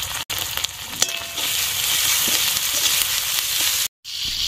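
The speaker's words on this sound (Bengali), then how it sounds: "এবার মশলাটাকে ভালো করে কষিয়ে নিব" Spice paste of chilli, turmeric, salt and coriander powder with a splash of water fries loudly and continuously in a pan for a young pumpkin dish, with faint stirring scrapes and a brief break near the end.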